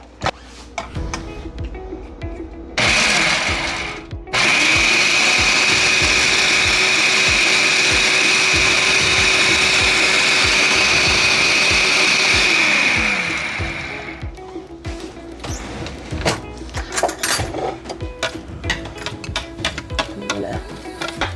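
A food processor blends basil pesto, starting with a brief whir, then running loudly as a steady motor whine for about ten seconds before winding down, followed by scraping and clattering sounds.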